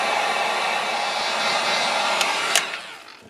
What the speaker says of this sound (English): Let me get a heat gun. We're going to dry this out good.